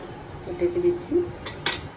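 A metal lid goes onto a cooking pot of curry broth, giving two sharp, close clanks near the end after a stretch of quiet kitchen hum.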